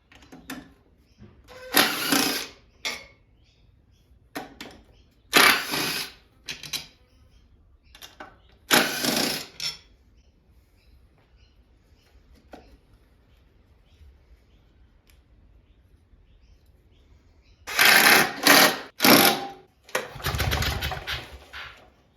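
Recoil starter on a junk-built Victa two-stroke lawnmower yanked several times, each pull a short loud broadband rasp in separate bursts with quiet gaps between, the last few pulls coming in quick succession.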